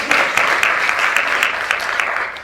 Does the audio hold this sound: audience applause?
yes